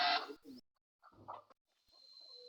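Chickens clucking in short bursts at close range, loud at first and then fainter, with a clear gap between calls and a thin steady tone underneath.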